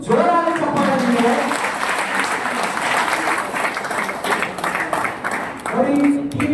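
Audience at a leaders meeting in Hubli giving loud applause, sustained dense clapping across the room, with a voice speaking briefly at the start and again near the end.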